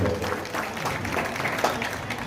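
An audience at a Bundeli fair claps loudly to bless a couple on their anniversary, producing a steady, dense wash of clapping from many hands with a few voices mixed in.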